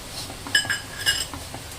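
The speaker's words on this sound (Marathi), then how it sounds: "आता 1 वाटी साखर टाकून घेऊ।" Metal utensils clink against a glass or steel dish as a cup of sugar goes into pineapple sheera, a few bright taps and scrapes close by.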